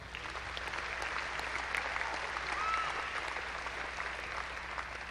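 A commencement crowd applauds graduates at a university fall ceremony, a steady, even roar of clapping that holds for five seconds in a large reverberant hall.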